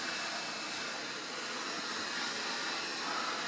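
A hair dryer blows steady broadband air hiss while heating the cracked screen of a 2008–2012 MacBook Pro A1278, close and continuous without pause.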